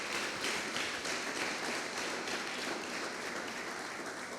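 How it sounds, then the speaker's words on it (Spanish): A church congregation claps loudly for the Lord, a steady, dense wash of many hands with no break throughout. "Puede darle palmas fuertes al Señor"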